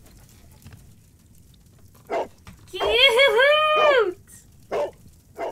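Toby the dog in a Sherlock Holmes video game gives a few short yips and a drawn-out whining, howl-like bark, fairly close and clear over a quiet background, with a brief spoken exclamation.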